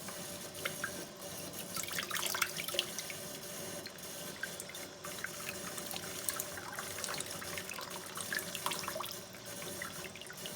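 Warm water running from a tap into an enema bag over a sink, a steady broadband splashing and trickling stream that continues for the whole stretch at moderate distance, with no voices.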